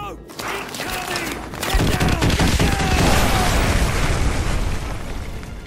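Artillery strike explosions in Call of Duty: Modern Warfare 2 erupt as a loud, sustained barrage of booming blasts and rumbling bursts, building after a quieter opening into a dense, continuous roar of impacts close by.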